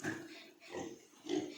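Pigs in a farm pen with a wet floor grunt in three short bursts close to the microphone, with brief quieter gaps between them.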